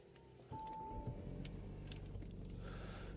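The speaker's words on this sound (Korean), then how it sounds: "시동 먼저 걸어 보겠습니다." A car engine turns over and catches from the driver's seat of a used sedan with a light-coloured interior and power seats, a brief key jingle and whine before the low idle settles in, steady and close.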